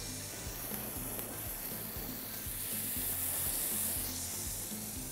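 Tuna fillet sears in a hot oiled pan over medium-high heat with no extra oil added, a steady hissing sizzle throughout with a faint background hum and a soft rhythmic knocking underneath.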